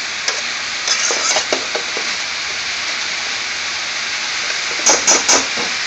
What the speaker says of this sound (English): we will leave on a medium fire for what? 10 to 15 minutes cooking